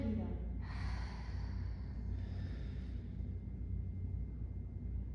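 A slow, audible exhale during gentle yoga breathing, close and soft over a quiet steady background hum.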